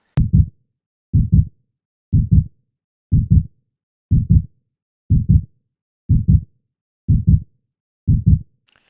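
Nine evenly spaced heartbeats, each a soft low double thump, about one per second, loud and close against silence.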